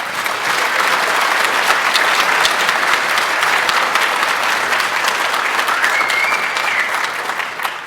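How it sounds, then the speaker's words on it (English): A conference keynote audience at ICCC9 breaks into loud, sustained applause, dense and steady for several seconds before easing slightly toward the end. "Give him a round of applause"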